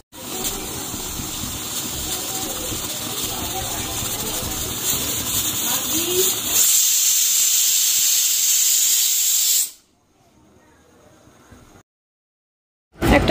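A pressure cooker on a home stove vents steam in a loud, steady hiss for several seconds, shifts to a harsher, brighter blast, then cuts off abruptly into near silence before a brief burst returns.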